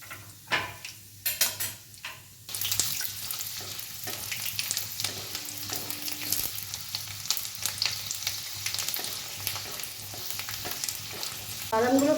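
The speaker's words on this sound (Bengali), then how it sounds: "কড়াইতে তেল গরম হয়ে গেছে, এটা আমি সাদা তেলে করছি। প্রথমে আমি বাদামটা ভেজে নেব।" Peanuts fry in hot white oil in a wok: after a few opening clinks and knocks, a dense continuous sizzle rises and holds steadily, close and fairly loud, with occasional utensil scrapes.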